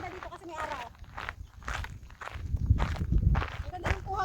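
Footsteps crunch at a steady walking pace along a hiking trail in the Tsuen Mun hills of Hong Kong. The steps are close and rhythmic, and people talk over them.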